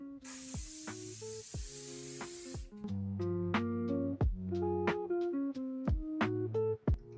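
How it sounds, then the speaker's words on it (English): Hairspray is sprayed onto hair in one steady hiss lasting a couple of seconds, close to the mic, before it gives way to background music. "Then I fix my hair with hairspray and immediately comb my hair."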